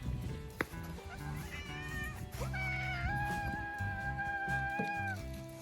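A neighbour's cat meows repeatedly, drawn-out rising and falling cries close by over soft background noise.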